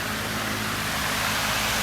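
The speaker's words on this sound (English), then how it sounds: "Excuse the fan." A close, steady whooshing hum of a running fan, broadband and unchanging, with no voices over it.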